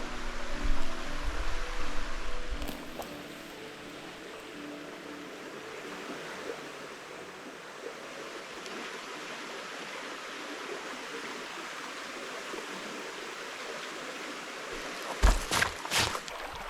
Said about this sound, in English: Still one of my favorite creeks.